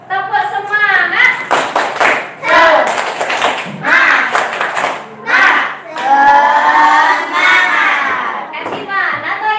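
Schoolchildren in a classroom lesson do a rhythmic spirit clap, sharp group claps in patterned bursts mixed with their loud chanting voices, ending in a sustained shout.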